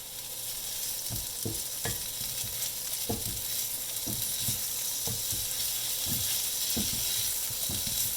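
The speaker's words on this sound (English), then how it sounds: "Nice sizzle. Let's get started with that." Vegetables for pad thai sizzle steadily in hot oil with a constant hiss, while a utensil scrapes and knocks against the pan at irregular intervals.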